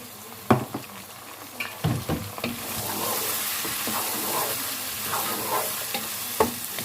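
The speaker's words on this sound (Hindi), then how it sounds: "अब हम इसे मज़ीद 4 से 5 मिनट तक अच्छे से भून लेंगे ताकि कीमे की स्मेल ख़त्म हो जाए" Minced meat keema with peas sizzles and fries in a pan, a continuous hiss broken by sharp scrapes and clanks of a spoon stirring against the metal, close up and with no talking.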